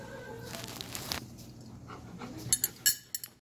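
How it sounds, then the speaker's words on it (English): A puppy whimpering and panting indoors, faint soft whines early on, then a few short, sharper yelps and clinks near the end, with no talk. "I think the puppy wants down"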